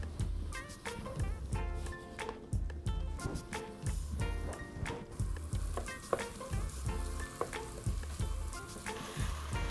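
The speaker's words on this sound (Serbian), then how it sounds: "Dok se luk prži" Onions and leek frying in oil in a pan, a steady close-up sizzle broken by repeated scraping and stirring knocks as the vegetables are moved around.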